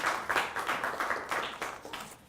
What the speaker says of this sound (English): Can we give a round of applause for everyone just